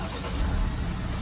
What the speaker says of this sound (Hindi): इतने टेम्परेचर में देखो गाड़ी में कोई भी दिक्कत नहीं आती स्टार्ट